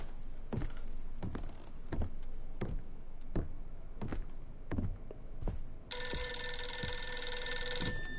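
An old telephone rings in a dark, haunted house in a horror game, shrill bright bursts coming in over a steady pattern of heavy thudding footsteps, with no one speaking.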